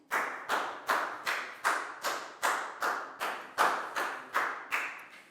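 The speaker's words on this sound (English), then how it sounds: "Big round of applause for down," A Year 4 class claps in unison during a health lesson, a dozen or so sharp, evenly spaced group claps at a steady beat, each decaying quickly, with no talking.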